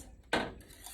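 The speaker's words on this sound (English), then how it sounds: "I want to keep stirring this until it comes back up" A spoon scrapes once against a pot while stirring a thickening vegan moussaka sauce, a single short metallic rasp fading quickly into a quiet kitchen.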